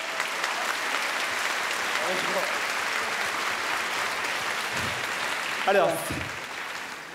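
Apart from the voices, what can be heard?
audience applause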